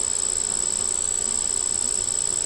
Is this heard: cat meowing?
no